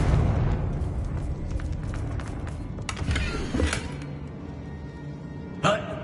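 A Confringo explosion spell in a video game bursts with a rumbling blast midway, followed later by a sharp, bright pop, over a low, busy game background.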